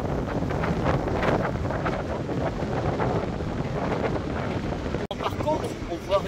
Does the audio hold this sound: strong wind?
yes